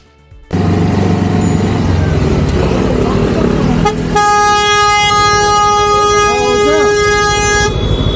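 A loud, sustained car horn blares up close for several seconds over engine and street noise, after a brief quieter stretch.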